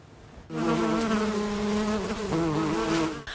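Bees buzz at a municipal apiary in Marostica, a loud, steady droning hum that swells in close after a brief quiet start and holds for several seconds.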